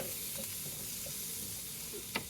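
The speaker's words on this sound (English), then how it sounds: "I just wanted to, you know, just to be able to do a quick cook, a quick sear on them." Lamb chops sear in a hot pan with a steady, close sizzle and hiss, broken by light stirring clinks and one sharper tap near the end.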